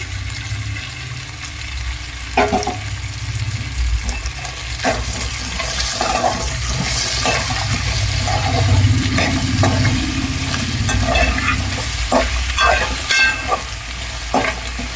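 Taro root pieces sizzle steadily in hot oil for a homemade curry, with repeated scraping stirs of a spoon against the pan cutting through the continuous close frying.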